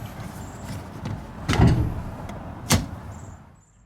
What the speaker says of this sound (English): So we'll go ahead and pop the hood.